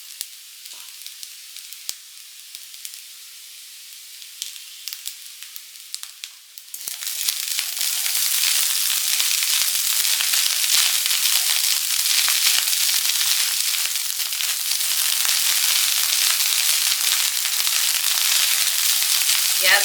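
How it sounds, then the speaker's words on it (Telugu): Chicken fried rice stir-frying in a pan over a high gas flame, a soft sizzle at first that jumps to a loud, dense, steady frying hiss with scattered crackles and no talking. "గ్యాస్ హైలో పెట్టేసుకొని రైస్ బాగా మిక్స్ చేసుకోవాలండి."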